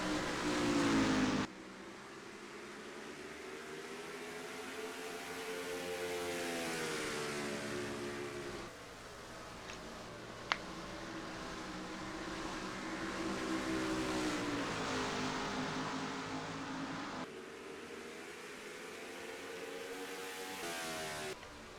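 Race cars running close together, three wide into a turn at a Milwaukee oval race, engines droning and shifting in pitch continuously at a steady moderate level.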